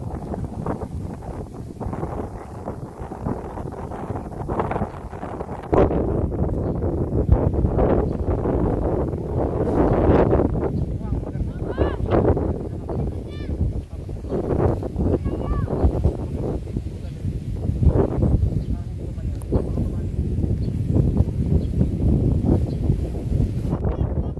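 Gusty wind roars and thumps against the microphone throughout while flying kites, with people talking and calling out over the noise.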